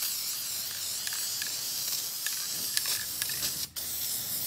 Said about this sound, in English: So I'll show you guys just real quick this epoxy enamel.